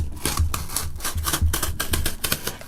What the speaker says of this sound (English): I honestly find it easier to cut using a cutter, a box cutter.